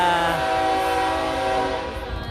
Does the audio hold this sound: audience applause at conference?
no